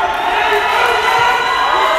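Crowd at a women's wrestling match cheering and shouting for Christina as she takes on a much bigger opponent; a dense, continuous roar of voices with whoops rising above it.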